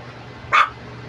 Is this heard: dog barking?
yes